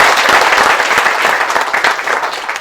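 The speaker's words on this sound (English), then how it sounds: "please give them all a wonderful round of applause" Loud, dense applause from a crowd, steady clapping throughout with no pauses.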